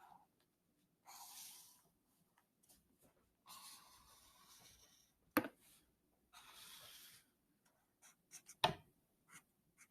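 Marker or pen strokes drawing a place value chart, heard as several short scratchy bursts of writing separated by pauses, with a couple of sharper taps; quiet and close, no talking.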